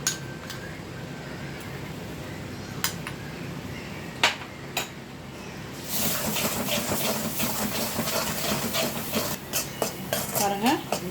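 Ginger garlic paste cooks in a kadai over a low flame for chicken and paneer tikka. A few sharp metal clinks come first, then a steady sizzle with repeated scraping stir strokes, under someone talking.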